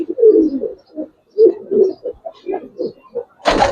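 Giribaz pigeons in a loft coo softly in a series of low, rounded calls with short pauses, closing with a brief louder rustle or flutter.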